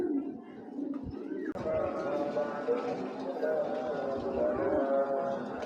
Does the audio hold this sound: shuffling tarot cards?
no